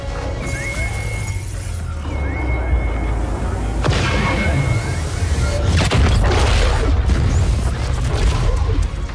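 Cannon fire pounding a ship in the video game XCOM 2: War of the Chosen, heard as repeated loud booms and crashing impacts over a constant low rumble, with sharp bursts around the fourth and sixth seconds and continuous battle noise throughout.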